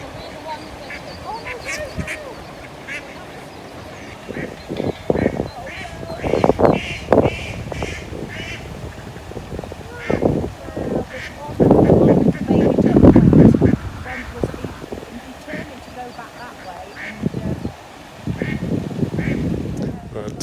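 A group of ducks and ducklings quack and call in repeated bursts near a pond, some loud and close, others fainter, with a few honking and cawing sounds mixed into the noisy outdoor scene.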